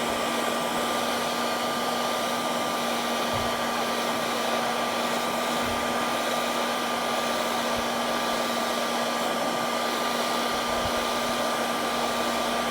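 A heat gun blows steadily on a creased plastic car bumper, a constant loud whooshing roar with a fixed motor whine that runs unbroken throughout, alone with no talk.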